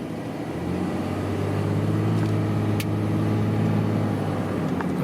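A 5.9 Cummins diesel engine in a Ram 3500 dually pickup with a Banks exhaust brake drones low and steady as it accelerates, a continuous rumble heard from inside the cab with a few faint clicks.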